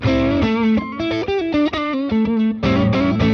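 An overdriven electric guitar through a Tube Screamer pedal plays a quick melodic riff with gritty, saturated tone, loud and up close, with no voices.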